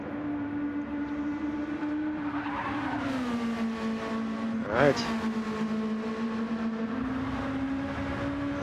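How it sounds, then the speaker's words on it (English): A Toyota MR2 race car engine drones in a Gran Turismo tuner race, a steady mid-distance hum whose pitch shifts as the car speeds up, with a brief louder swell midway and someone talking over it. "I like the sound of the MR2 that's in this race as well."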